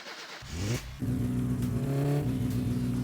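A car engine in My Summer Car, fitted with a new starter, cranks briefly and then catches, settling into a steady, loud, rough idle that rises slightly in pitch.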